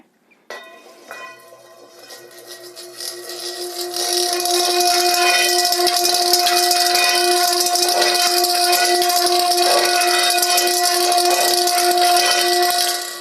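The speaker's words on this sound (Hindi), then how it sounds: "इसमें कंचों को डालेंगे तो कंचे भी उछलने लगेंगे" Marbles rattle and bounce inside a vibrating resonance demonstration apparatus, a dense continuous clatter over a steady tonal hum that builds after a few seconds and stays loud and close to the end.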